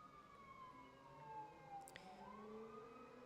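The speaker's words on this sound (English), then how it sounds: "I do hear a fire truck. Hear ambulance and a fire truck in the back." Wailing emergency sirens from a fire truck and an ambulance sound in the distance, with long rising and falling tones sweeping steadily through the background.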